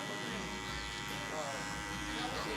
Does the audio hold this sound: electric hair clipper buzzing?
yes